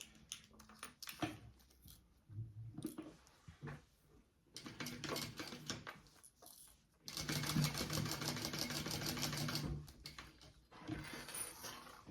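A sewing machine stitches a quarter-inch seam on a sling, running in bursts of rapid needle chatter separated by short pauses and handling noises, with a long steady run near the end.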